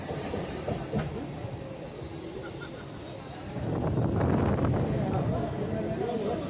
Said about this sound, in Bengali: এক্সপ্রেস ট্রেন কিন্তু যাচ্ছে